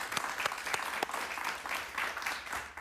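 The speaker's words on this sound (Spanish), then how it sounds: "Un aplauso para él, por favor" A studio audience applauds a former Cuban political prisoner on an interview show, with a dense, steady clatter of many hands and a few sharp, distinct claps standing out near the microphone.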